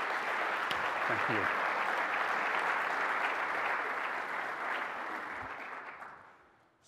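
Sustained audience applause fills a keynote hall at an Orlando event, steady and dense for several seconds before fading out, with a speaker briefly talking over it near the start.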